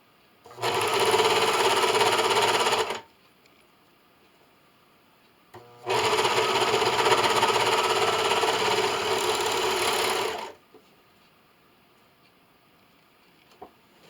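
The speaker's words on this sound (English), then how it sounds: "I'm going to line up my seam with the line on the most left. And serge those raw edges." A serger overlocks raw fabric edges in two loud, steady bursts of rapid mechanical whirring, the first about two seconds and the second about five, separated by a quiet pause, close up with no talk.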